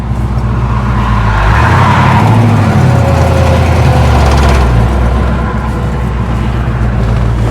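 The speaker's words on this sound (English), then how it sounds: "It's the old 4-speed Trans Am." A 1977 Pontiac Trans Am with a 455 engine and 4-speed manual cruises down the road, its engine a loud, steady low rumble heard from inside that swells briefly as it pulls.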